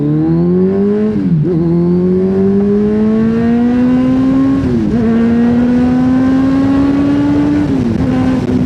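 A loud 1000cc inline-four Kawasaki Z1000 motorcycle with a new exhaust revs up hard, pitch climbing steadily from first to third gear, with brief dips at each gear shift before it climbs again. No talking.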